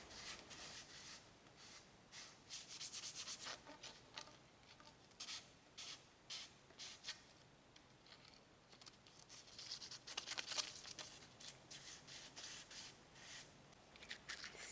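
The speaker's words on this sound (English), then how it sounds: "Here I sanded down the PVC to make the cement stick better." Close, quiet rasping of sandpaper rubbed back and forth on PVC pipe in uneven strokes, with short pauses between bursts.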